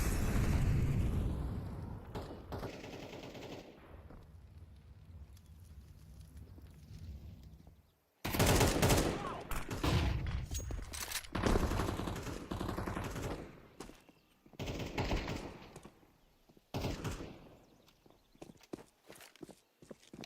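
Rapid bursts of gunfire in the video game Counter-Strike 2, loud volleys broken by quieter gaps with footsteps and distant shots between them.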